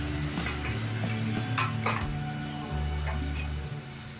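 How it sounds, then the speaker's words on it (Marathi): Stuffed ridge gourd frying in a pan, a steady close sizzle with a few light scrapes and clinks from stirring. "असं फ्राय करून घ्या जरा"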